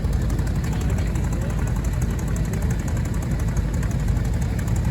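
A 1963 Ford F-100 pickup truck engine running at a vintage engine show, a steady loud rumble with a rapid knocking pulse and no pauses.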